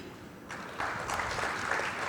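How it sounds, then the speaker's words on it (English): A conference audience at a sustainability and solar energy forum in Malaysia breaks into moderate applause that starts quietly and swells to a steady, even clapping. "So please give a round of applause to Mr."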